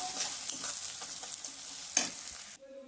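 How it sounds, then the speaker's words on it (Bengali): Onions frying and being stirred in a pan with a little salt for a mutton dish, a steady sizzle broken by scraping stirs and a sharp clack near the end, close and fairly quiet with no talk. "যাতে পেঁয়াজটা তাড়াতাড়ি নরম হয়ে যায়।"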